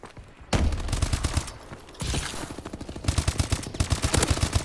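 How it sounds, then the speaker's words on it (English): Player's weapon firing in a competitive team first-person shooter scrim, with repeated rapid bursts of loud gunfire in quick rhythmic volleys, close and dominant, several pauses between strings of shots. "that's me firing"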